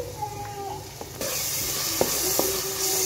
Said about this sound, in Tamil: பச்சை வாசனை போகிற அளவுக்கு நல்லா வதக்கி விட்டுக்கலாம்.